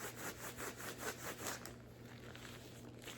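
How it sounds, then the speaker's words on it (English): Ridged latex medical gloves rubbed together give close, rhythmic rubbing and squeaking strokes that fade into quiet rustle partway through. "Kind of have these like ridges on the bottom, so they make kind of cool sounds."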